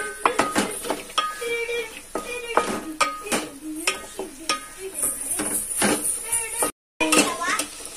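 A spoon scrapes and clanks around a pot of country chicken curry made with chicken blood, in repeated stirring strokes close by, while people talk over it.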